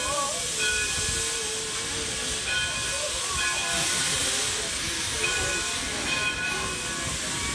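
Steam train of the Weiser Railroad hissing loudly and continuously as it starts moving, with faint steady tonal whistles over a dense rumbling background.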